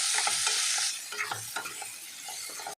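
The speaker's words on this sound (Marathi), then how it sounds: "ते भरलेलं वाटणाचं कारलं तेलामध्ये टाकूया।" Bitter gourd stuffed with ground masala paste hits hot oil seasoned with cumin and mustard seeds in a kadhai, giving an intense hissing sizzle that quickly eases into softer bubbling crackles.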